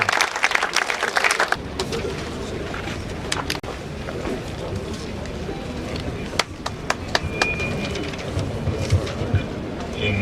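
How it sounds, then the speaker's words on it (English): A ceremony crowd gives a round of applause at a government presentation of gratuity cheques to retired local government workers, sustained dense clapping with scattered sharper claps, moderately near, with some voices mixed in. "I think that round of applause is not enough."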